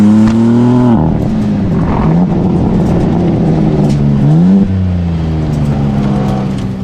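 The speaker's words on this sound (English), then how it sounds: "Once you put your foot down, that S58 engine just gives you all of the power in the world" BMW M2 with the S58 engine pulls hard on a narrow road, loud engine note climbing through the revs, dropping at a gear change near one second and again near four and a half seconds, with no talking.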